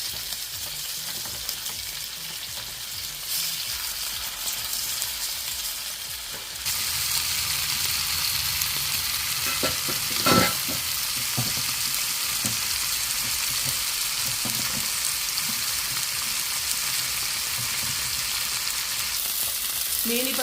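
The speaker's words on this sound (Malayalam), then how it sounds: "മീനിപ്പോൾ നല്ലപോലെ ഫ്രൈ ആക്കി ഇട്ടിട്ടുണ്ട്." Fish frying in a hot pan for Kerala-style fish molly, a steady close sizzle that swells louder partway through with a few brief pops and spatters.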